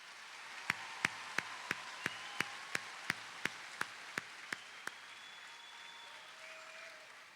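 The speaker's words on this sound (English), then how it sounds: "Let's give these students a nice round of applause." Applause from a high school commencement audience, with a dozen or so sharp, evenly spaced claps standing out over a soft crowd wash, fading toward the end; faint whistling tones drift in the background.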